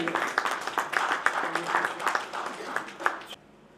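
Quiet, steady clapping from the audience at a Hindi poetry gathering's annual festival as guests are welcomed onto the stage. The applause runs evenly and fairly distant, then stops abruptly near the end.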